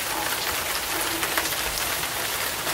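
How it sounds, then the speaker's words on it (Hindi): Heavy rain pours down outdoors in Pune during the Ganesh festival season, a loud, continuous wash of drops pattering on surfaces with no voices over it. "It's raining today."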